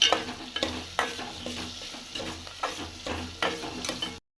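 Tomatoes and onions fry in a pan for a drumstick, raw mango and dried fish curry, giving a close steady sizzle broken by repeated stirring scrapes and taps of a spoon, with no voices.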